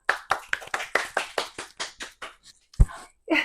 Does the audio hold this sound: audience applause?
yes